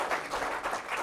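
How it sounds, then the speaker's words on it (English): Audience applause for the PRC ambassador to Australia at a formal address, a dense steady wash of clapping lasting about a second with slight swells, no voices. "Let's give the ambassador a round of applause."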